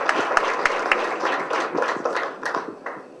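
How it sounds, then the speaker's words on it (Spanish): An audience at an indoor business meeting claps for a few seconds, with scattered, uneven hand claps that thin out toward the end, at moderate volume. "le damos un fuerte aplauso"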